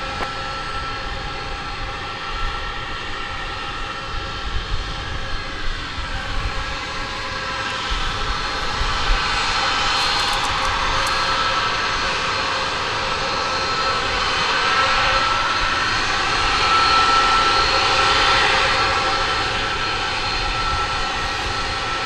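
Airbus A300 jet airliner engines at DFW Airport, a steady broad roar that builds and swells through the middle and later portion, sustained and fairly loud with a rising whine, no talking.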